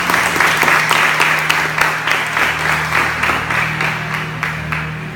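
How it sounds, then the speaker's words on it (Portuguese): A church congregation applauds loudly and steadily for several seconds, a dense wash of many hands clapping at once with a low hum beneath. "Agora dá uma salva de palmas bem forte para a palavra de Deus."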